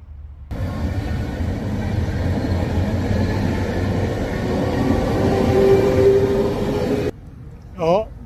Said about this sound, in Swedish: Ja, det där var ju inte nya tåget direkt.